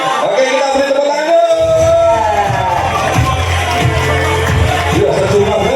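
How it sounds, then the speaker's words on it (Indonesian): Crowd noise at an Indonesian Independence Day cultural carnival parade in Wonogiri, loud and continuous, with cheering voices, whoops and children shouting over a low rumble and scattered clapping. "kita beri tepuk tangan"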